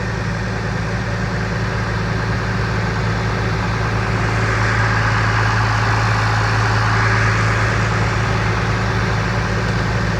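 An Oliver 770 tractor engine runs with a continuous, loud, low-pitched drone that grows slightly fuller partway through as it draws nearer, with no talking over it.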